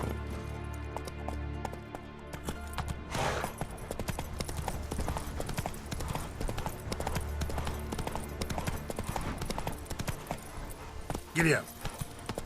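Horse hooves clip-clop steadily through a riding stretch in The Witcher 3 on PS5, a continuous rhythmic trot mixed with game music and ambient sound, with a brief burst of other noise near the end.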